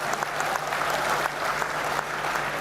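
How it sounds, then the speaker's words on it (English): A crowd claps steadily in sustained applause at a university convocation ceremony, a dense patter of many hands at even loudness. "A big applaud for ICFAI, please."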